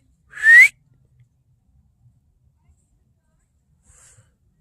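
One loud rising whistle given by a person as a Bigfoot call in the woods, short and near, followed by near silence with faint scattered ticks.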